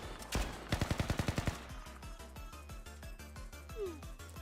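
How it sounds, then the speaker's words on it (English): Rapid bursts of gunfire from the Blue Archive video game: a quick volley of about eight evenly spaced shots, then a steadier, lighter automatic rattle with game music underneath. "I also hear gunfire outside just now."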